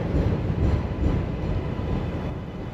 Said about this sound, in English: We're waiting for the 7 train to stop passing